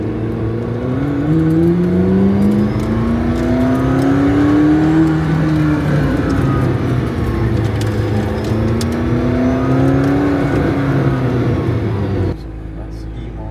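A car pulls away and accelerates with a rising engine note that climbs and resets through gear changes, loud and close from inside the cabin, then drops away abruptly near the end.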